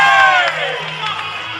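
A crowd at a Muay Thai fight at Curtin Stadium in Perth cheers and shouts loudly in a short, dense burst of mixed voices.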